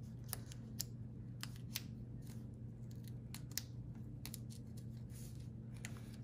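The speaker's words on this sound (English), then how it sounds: "use some scissors to trim it" Scissors snip through paper during a stamping and card-making session, with a series of short, crisp cuts in an irregular rhythm over a steady low background hum.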